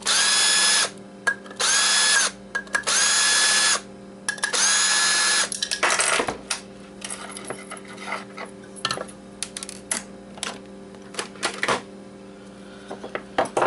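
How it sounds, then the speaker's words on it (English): A power screwdriver unscrews the magnet from an Xbox hard drive in several loud, close whirring bursts separated by pauses, followed by quieter clicks and rattles of small metal parts. "Unscrew the magnet."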